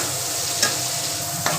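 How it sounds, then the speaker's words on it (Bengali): Chopped onions with salt and turmeric sizzle steadily in hot mustard oil in a pan, a constant close hiss broken by two brief clicks of a utensil stirring. "এবার পেঁয়াজটা একটু ভাজা ভাজা হবে।"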